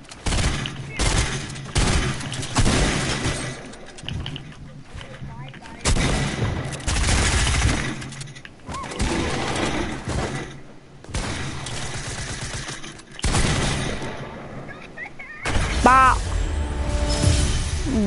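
Pump shotgun blasts in a video game, several loud booming shots spaced irregularly amid other gunfire, with someone talking over them.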